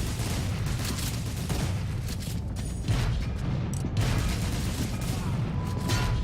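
Grenade launcher and gunfire in the game UberStrike: a dense, continuous barrage of rapid shots and booms runs loud throughout, with no clear gaps.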